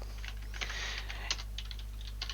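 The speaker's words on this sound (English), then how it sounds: "as I'm typing along" Keys on a computer keyboard clatter in a light, irregular run of soft taps, quiet and close over a steady low electrical hum, with no talking.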